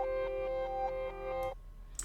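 A reversed section of an instrumental, panned to the right ear: sustained tonal notes swell and hold for about a second and a half, then cut off, leaving faint, airy reversed fragments that flare briefly near the end.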